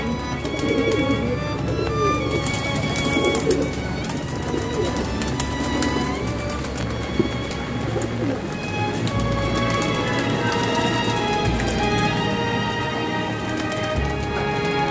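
Pigeons of the Tonk breeds, red, white and black-headed birds, fill the air with cooing and fluttering while flying over rooftops, a busy layered mix of calls and wingbeats that carries steadily throughout.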